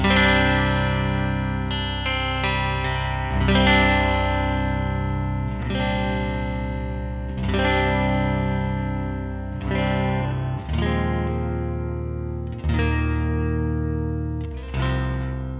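Electric guitar played through a Fender Engager Boost pedal with the treble rolled back gives warm, sustained, harmonically rich notes and chords, struck roughly every two seconds and ringing loud and close with no talking.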